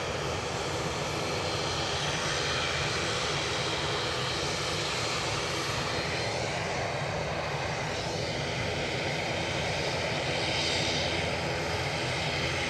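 Ryanair airliner at Edinburgh Airport, a broad steady engine roar with rushing noise, loud and sustained, swelling slightly toward the end with no voices.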